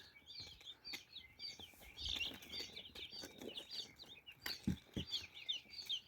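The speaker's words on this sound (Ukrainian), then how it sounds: "Дивіться, які там в кінці чубаті гарні стоять ціпки." Young crested chicks, freshly hatched in a Teplusha Lux 72 incubator, chirp and peep repeatedly in quiet, overlapping calls, with a few soft thumps underneath.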